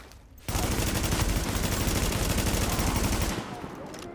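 Rapid automatic fire from an LVOA rifle in the video game The Division, a dense loud burst of shots lasting about three seconds after a brief quiet start, then trailing off.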